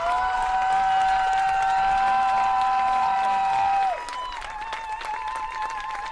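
Crowd cheering at a girls' high school lacrosse semi-state overtime, Brownsburg vs Castle: a loud, sustained roar of fans with a high whistle-like tone across the first seconds, then a slightly quieter, continuing crowd din.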